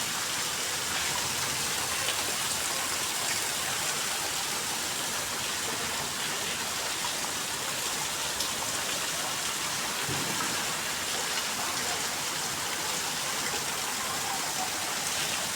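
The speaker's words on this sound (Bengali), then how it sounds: "এই সময় বৃষ্টি হচ্ছে।" Midday rain falls steadily and evenly, a dense continuous hiss of drops on surfaces that holds at a constant level, with no voices.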